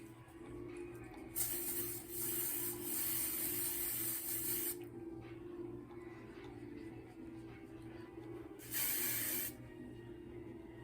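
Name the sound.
spray bottle spraying onto hand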